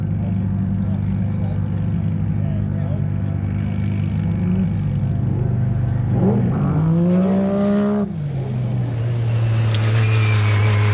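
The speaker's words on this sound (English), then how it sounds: "the 678 Can-Am X3 are Paul and Kate Goody, the husband and wife combination, going through very nicely" A Can-Am X3 side-by-side races past at a desert rally prologue, its engine droning steadily then climbing in pitch as it approaches and dropping sharply as it passes, loud over ambient noise with crowd or commentary voices underneath.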